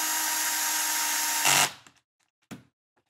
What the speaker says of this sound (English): we're going to use the 2 shorter screws, which are the 10 millimeter. And go ahead and cinch this down.